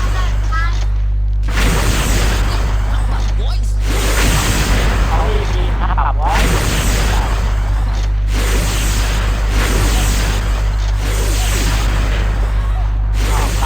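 Gunfire in the shooting video game XSHOT, with repeated bursts and booms running almost the whole way through. Short gaps break the firing, and a steady low hum sits underneath. A player talks throughout.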